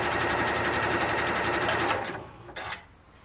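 A Janome Continental M6, a 9mm-stitch-width machine, stitches a wide zigzag with a fast, steady mechanical whir and rapid needle chatter, close, then slowing and stopping, followed by a short click.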